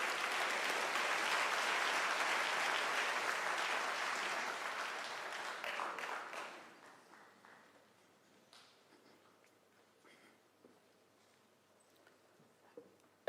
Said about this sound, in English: can we applaud our graduates and everybody in this hall